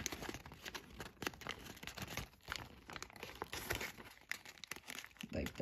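Origami paper being pressed down and folded over while collapsing a butterfly model, giving a steady run of close, crisp crinkling and crunching with soft rustles throughout, and no voices.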